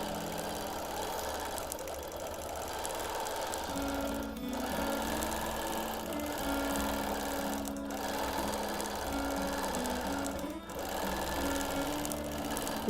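A sewing machine free-motion quilting a whimsical spineless feather pattern on a wholecloth baby quilt, running continuously and loudly up close with a rapid mechanical stitching hum that shifts pitch slightly as the speed changes.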